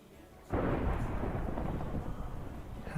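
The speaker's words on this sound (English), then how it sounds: "How can I hear the lightning so well from all the way down here?" Thunder in the Minecraft video game breaks with a sudden loud crack, then rolls on as a dense, low rumble for a few seconds, with no speech.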